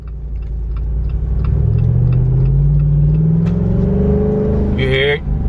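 Jeep Wrangler Rubicon 392 with its V8 HEMI engine revs up through paddle-shifted gears, a loud, deep rising drone that climbs steadily before a quick shift near the end, heard close from inside the vehicle.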